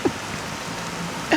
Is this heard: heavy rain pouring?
yes